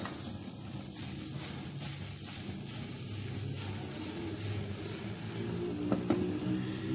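A keema omelette sizzles steadily in a pan as it cooks on its second side, a constant close frying hiss with faint clinks near the end and no talk.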